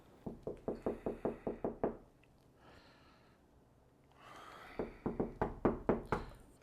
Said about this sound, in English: Somebody at the door.